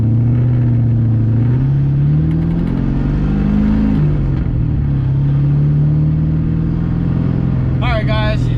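An LS-swapped Lexus IS300 with its muffler refitted drives along, its V8 engine droning loudly and steadily while the pitch rises and falls through gear changes, with a short higher burst near the end.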